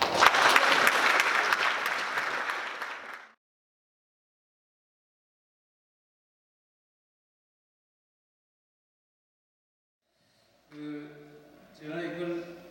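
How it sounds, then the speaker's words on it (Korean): An audience at a lecture on the global economic slowdown and new isolationism gives a burst of loud applause, which cuts off into silence before brief speech resumes near the end. "큰 박수로 환영해 주시면 됩니다."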